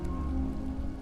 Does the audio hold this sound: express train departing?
no